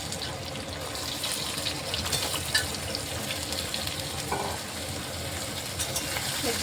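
Spices and vegetables fry in a pan for khichuri, a steady close sizzle with soft crackling and occasional stirring scrapes throughout, no voices over it.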